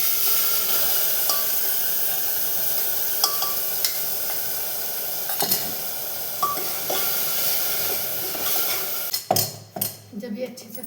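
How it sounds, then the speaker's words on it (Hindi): Tomato, onion and garlic paste frying in hot oil, a steady broad sizzle with scattered clinks of stirring, ending in a few louder clattering knocks near the close. "तेल हो चुका है, अब मैं डाल दूँगी इसमें पेस्ट।"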